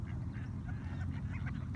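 A group of wild ducks quacking continuously at moderate distance, a busy overlapping chorus with a low steady background rumble.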